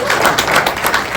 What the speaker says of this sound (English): Let's give a big round of applause to our premier.